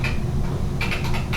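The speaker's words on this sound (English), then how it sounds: "let's check the keyboard on this one while it's powered on" Quick, uneven clicking of keys on a TRS-80 Color Computer 2 keyboard, close by, with a burst of faster taps toward the end over a steady low hum.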